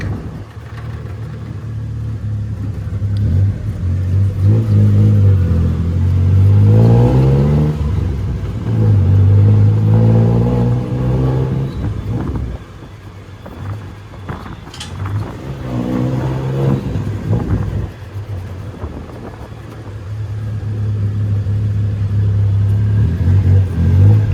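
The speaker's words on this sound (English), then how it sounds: "Going for a ride in the tuk-tuk." A tuk-tuk rides through the streets of Bangkok, its loud engine close by, droning and revving up and down as it accelerates, slows and speeds up again, with road rumble throughout and no talking.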